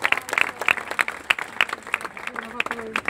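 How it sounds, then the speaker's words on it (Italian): Scattered audience clapping at an open-air evening event in Taranto, a sparse handful of distinct claps at uneven intervals, fairly close, with voices talking underneath throughout. "beh sì, l'applauso ci vuole"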